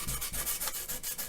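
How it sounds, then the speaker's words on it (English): Small piece of sandpaper rubbed by hand over wood furniture surfaces, steady close back-and-forth scratchy strokes at a quick even rhythm, with no talking. "I want to sand this real small piece of sandpaper."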